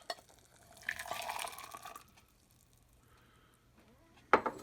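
Water running through a manual K-cup coffee pod, a quiet close trickle and splash for about a second, then near silence before a brief sharper clatter at the end.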